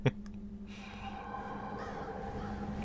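Crows cawing in a Game of Thrones Season 8 promo, set against a dark, wintry backdrop: a few rough caws over a low, swelling drone, fairly faint and distant-sounding.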